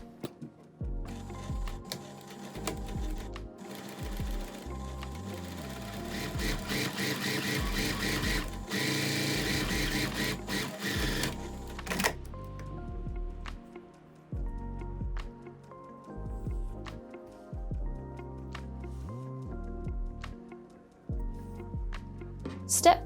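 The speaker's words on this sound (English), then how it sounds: "Next we'll be edge stitching the drawstring." A sewing machine runs in long bursts while edge stitching a drawstring, with a dense whirring drone that pauses and restarts, followed by softer clicks and fabric handling; no one talks.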